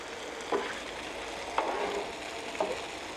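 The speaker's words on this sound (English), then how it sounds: "So I think I might lower this down and let it just simmer for a bit and come back and flip it." Food sizzling and simmering in a pan on a home stove, a soft continuous frying hiss with three brief louder clinks or stirring scrapes spaced about a second apart; no talking.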